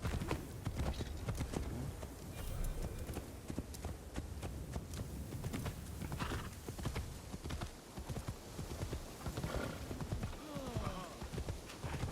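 Horse hooves clip-clop in a steady walking rhythm over a dense soundscape in the game Assassin's Creed Shadows, with occasional voices mixed in.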